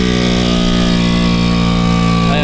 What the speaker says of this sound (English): ARB compressor down on the toolbox here.